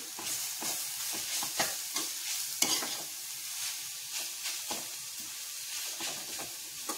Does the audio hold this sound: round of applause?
no